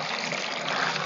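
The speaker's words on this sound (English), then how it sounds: "I'm just adding water because the cloth is already dry" Water added to dry clothes while making cold water starch, a steady close splashing trickle running continuously without a break.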